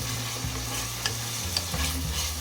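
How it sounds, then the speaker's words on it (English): Pork and tomato stirred in a hot pan: scraping strokes of a utensil over a constant sizzle, with a few louder stirring bursts, close up and without voices. "So we need to mix it well."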